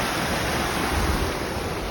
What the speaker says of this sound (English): see the rush of the water